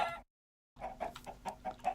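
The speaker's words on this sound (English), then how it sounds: "Those chickens." Minecraft chickens clucking in quick, irregular short bursts, faint and up close, with a brief silent gap near the start.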